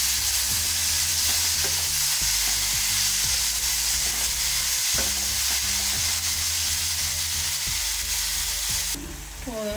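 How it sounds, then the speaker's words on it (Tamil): Spinach sautéing in a pan for palak paneer, with steady loud frying sizzle and repeated stirring scrapes throughout, with no speech. "கீரை போட்டுக்கலாம் நல்லா வதக்கிடலாம்"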